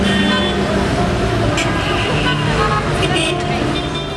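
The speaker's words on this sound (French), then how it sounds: "la circulation se densifie et le bruit des klaxons recouvre désormais celui du vent" Car horns toot over dense, steady Cairo traffic noise, with several short honks standing out near and far amid the constant roar of the road.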